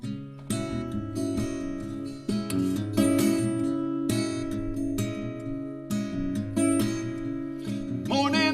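A solo acoustic guitar from a singer-songwriter's record plays an opening passage, with bright strummed and picked chords ringing steadily, loud and close, with short breaks between phrases and no voice.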